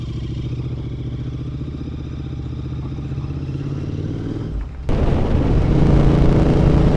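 A Royal Enfield Continental GT motorcycle engine runs close by with a steady, throbbing idle, then revs up suddenly into a louder, rougher roar.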